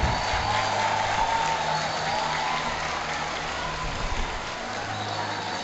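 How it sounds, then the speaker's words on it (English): Warm audience applause at a 2019 graduation ceremony, a dense steady crowd clapping sustained for several seconds, slightly easing toward the end. "A warm round of applause,"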